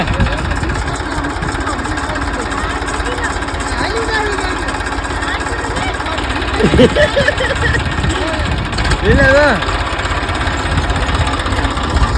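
A tractor engine chugs and idles steadily nearby, a low continuous rumble, while a couple of voices call out briefly over it.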